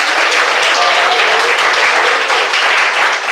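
A church congregation applauds, a loud dense wash of clapping hands sustained evenly from start to finish with no gaps.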